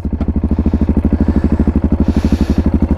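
Yamaha MT-03 660 single-cylinder motorcycle idling with an exhaust baffle fitted, a close, loud and evenly pulsing thump about ten beats per second with a slight clattery edge, steady throughout.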